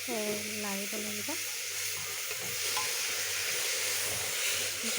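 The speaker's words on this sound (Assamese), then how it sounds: "গাজৰখিনি ভালদৰে লাৰিব লাগিব।" Grated carrots for gajar halwa sizzle and fry in a hot pan on high flame, with steady stirring scrapes throughout and a brief tonal chime at the start.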